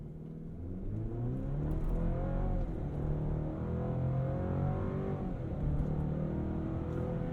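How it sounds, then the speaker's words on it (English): A 310 hp Chevy Colorado pickup launches hard and accelerates to 60, its engine note climbing steadily and loud throughout with a sustained mid-range roar and rising harmonic sweeps as it pulls through the gears. "I want to see how quick we can get this 310 horsepower version of the Colorado to 60"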